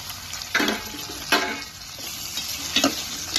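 Capsicum stir-fried over a high flame for egg noodles, a continuous sizzle broken by three bursts of scraping stirring strokes against the pan.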